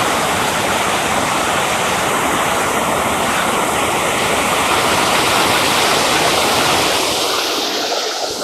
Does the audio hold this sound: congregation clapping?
no